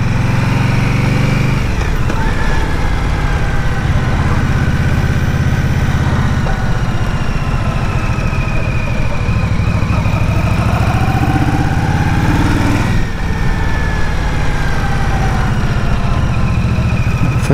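A 2023 Indian Scout Bobber motorcycle engine runs low in the revs at about 1500 rpm, a loud, steady, deep throb that rises and falls slightly with throttle, close and continuous throughout.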